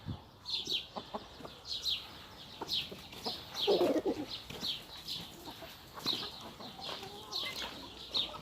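Chickens cluck and chatter repeatedly in short bursts, fairly faint, with scattered bird calls around them and a quiet outdoor background.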